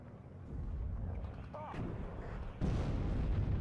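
SPG-9 recoilless rifle fire and explosions in the WARNO strategy game, heard as a rumbling mix of booms and blasts with a sharper burst near the end, under a faint commentary voice.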